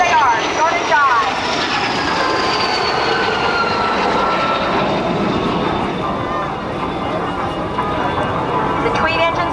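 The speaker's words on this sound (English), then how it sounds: "There's a high-pitched whine that comes from those engines, particularly when they're on the ground" Two Morane-Saulnier MS760 jets with Turbomeca Marboré engines, on the ground at a naval air station airshow, give off a steady high-pitched whine over broad engine roar that holds loud throughout.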